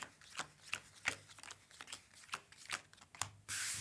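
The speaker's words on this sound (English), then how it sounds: "Quick bit of the old shuffle here." Star Realms: Frontiers game cards are shuffled in a series of quick, crisp riffles and taps, close and fairly quiet, ending in a brief burst of hiss.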